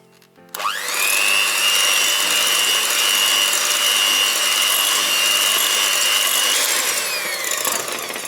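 Castella cake batter being whisked by hand. A continuous, loud, close scraping swish begins abruptly after a short quiet start and holds steady to the end, with no talking.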